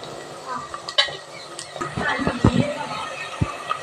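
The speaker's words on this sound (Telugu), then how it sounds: "చూడండి బాగా వేగిపోతున్నాయి ఉల్లిపాయలు" Onions with green chillies and curry leaves fry in peanut oil in a pan, giving a soft steady sizzle broken by spoon scrapes and clinks, close by.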